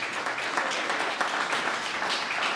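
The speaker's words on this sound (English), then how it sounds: "give them a big round of applause." An audience at a community mental health and wellbeing launch claps for two children, steady moderate applause throughout with no speech over it.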